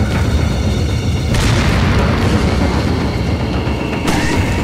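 Grenade explosions in the video game Resident Evil 4, two heavy booming blasts with sharp onsets and a dense, loud roar sustained between them.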